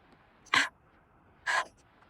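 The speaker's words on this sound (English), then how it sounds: "Can you hear my breathing?" Two sharp, breathy exhalations about a second apart, close to the microphone, with quiet background between them.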